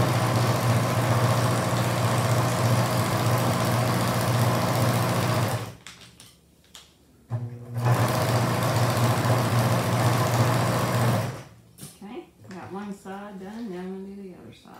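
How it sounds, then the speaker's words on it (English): A sewing machine stitches a feed sack bag with a loud, steady whirring hum in two long runs separated by a brief pause, close and dominant, and a voice speaks after it stops. "So I'm going to go ahead and just sew down one side and then the other."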